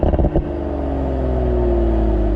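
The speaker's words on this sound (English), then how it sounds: "the snap, crackles, and pops that you get out of the back of this car is off the charts" BMW Z4 M40i in Sport Plus mode, engine and exhaust droning steadily with a low, loud rumble after a brief burst of rough crackle at the start, no voices.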